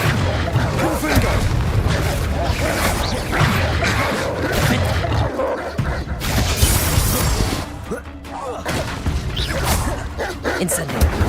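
Incendio and Confringo spell blasts in the video game Hogwarts Legacy, repeated booming, crackling bursts and whooshes layered thickly with loud combat noise, with a voice speaking over them.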